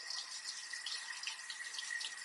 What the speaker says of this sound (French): Excusez-moi pour le bruit du robinet d'eau.